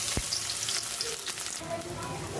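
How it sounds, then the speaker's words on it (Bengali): Chopped onions fry in a hot pan with a steady, dense sizzle that crackles close up throughout, with no talking. "রান্নাঘরে চলে এসেছি, রান্না করব। তো পেঁয়াজ কুচি দিয়ে দিয়ে দিই"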